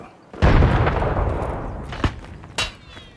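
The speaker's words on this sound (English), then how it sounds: "another nade, real quick." A grenade goes off in Escape from Tarkov with a loud, close boom that rumbles and fades over a couple of seconds, followed by two sharper cracks like gunshots.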